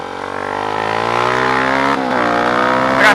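A motorcycle engine revs and drops through gears as the rider brakes hard on the front, a loud close whine stepping down in pitch with a brief dip mid-way before rising again.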